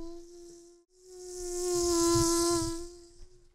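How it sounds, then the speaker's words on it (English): High, thin whine of a mosquito-like buzz, steady and close, dipping briefly before swelling louder and fading at the end, with no voices over it. "That sounds like a mosquito."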